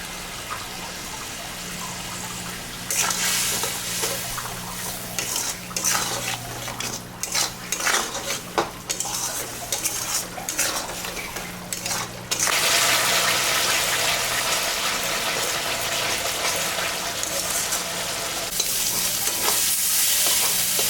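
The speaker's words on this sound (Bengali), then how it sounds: "মশলাটা ভাজা ভাজা হয়ে গেছে" Spices with salt and turmeric sizzle in a pan for a snakehead fish curry, with repeated scraping stirs and utensil clinks, then the frying grows into a louder, steady hiss.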